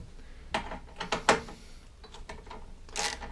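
8mm bolts loosened on the top cover of a Masport lawnmower, giving a few quick close metallic ratcheting clicks followed by a brief scraping rattle.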